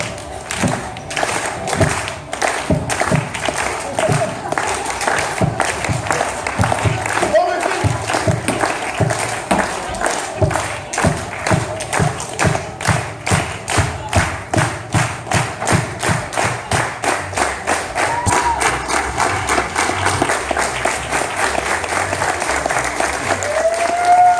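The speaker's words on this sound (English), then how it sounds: "that is with a slow, rhythmic hand clap" A theatre audience at a live sideshow-style horror performance claps in a slow, steady rhythm, dozens of loud, even claps repeating for well over twenty seconds, with crowd noise filling the room throughout.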